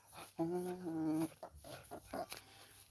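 A puppy lets out one drawn-out, wavering whine up close, then fainter yips and rustles follow with a murmuring voice in the background.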